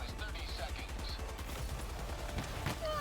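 Rapid bursts of automatic gunfire in the video game Helldivers 2, dense and continuous over a rumbling game soundtrack, with a voice talking briefly beneath.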